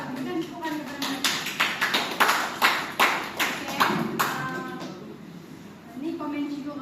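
A small group gives a short round of clapping in a classroom, a brisk run of claps that thins out and fades while voices talk over it.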